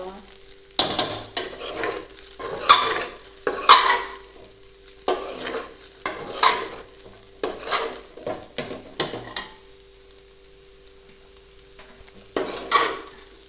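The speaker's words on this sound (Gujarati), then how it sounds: "થોડી વાર માટે આપણે તેને જ્યાં હલાવી લેશું" Poha with potatoes is stirred in a pan, with repeated close scraping and clanking strokes of a spoon against metal over a light sizzle, pausing briefly before a final stir.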